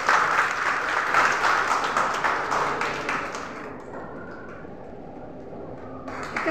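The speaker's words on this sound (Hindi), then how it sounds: "ताली दियंतु प्लीज" Audience applause at a Rotary Club award ceremony in Puri, a dense burst of clapping that swells early and then thins into scattered claps before a brief final flurry.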